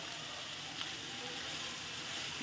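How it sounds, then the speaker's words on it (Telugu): Onions frying in a pan give a steady, close hiss of sizzling that runs evenly and alone throughout. "ఆనియన్స్ బాగా ఫ్రై అవ్వాలి."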